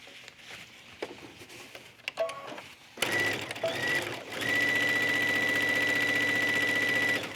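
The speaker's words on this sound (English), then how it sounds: "The next thing you do is just sew down the seam." A sewing machine stitches down a fabric seam at a half-inch allowance while attaching cuff trim. Brief handling noises come first, then the motor settles into a steady, close, continuous whirring hum that runs to the end.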